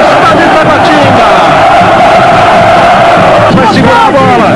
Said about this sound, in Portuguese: Olha a torcida do Corinthians explodindo!